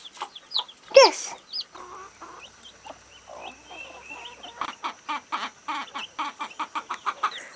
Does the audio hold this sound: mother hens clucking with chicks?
yes